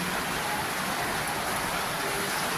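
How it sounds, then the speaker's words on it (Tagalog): Heavy rain pouring steadily on a house with a damaged roof, a dense constant hiss filling the space without pause or voices. "Lakas ng ulan. Lakas ng ulan, guys."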